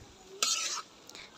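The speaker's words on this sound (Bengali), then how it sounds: "এবার আমি ভালো করে নেড়ে চেড়ে নিচ্ছি।" Chicken curry with tomatoes is stirred in a pan over a clay stove, giving one short burst of sizzling, scraping movement at mid-loudness, followed by a small clink.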